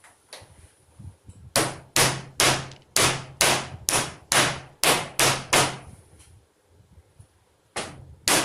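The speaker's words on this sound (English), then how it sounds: "we'll take a help of mallet hammer" A mallet strikes hard about a dozen times in a steady rhythm, driving 18650 battery cells into holder sockets, each blow a sharp, close knock, followed by a pause and two more hits.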